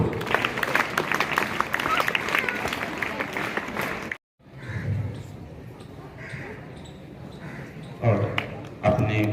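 At a school assembly for Sant Ravidas Jayanti in a Delhi schoolyard, students give rhythmic 'sainik' clapping in steady, fast unison beats. The clapping is loud and dense for about four seconds, then stops briefly before quieter crowd sounds and voices continue.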